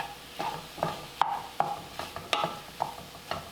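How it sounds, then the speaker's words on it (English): Food is stirred and mixed in a pan, with a spoon making a run of separate scraping knocks every half second or so over a faint sizzle. "and then I mix it all together"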